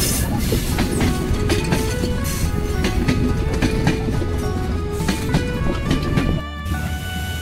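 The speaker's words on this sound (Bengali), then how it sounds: "আন্তনগর চিলাহাটি এক্সপ্রেস 6620 লোকোমোটিভ নিয়ে ঈশ্বরদী বাইপাস স্টেশনে সকাল 11টা 10 মিনিটে 40 মিনিট বিলম্বে প্রবেশ করল।" The intercity Chilahati Express, hauled by locomotive 6620, rolls into Ishwardi bypass station in Bangladesh with a continuous loud rumble, rhythmic wheel clatter and faint squeals, holding close and steady throughout.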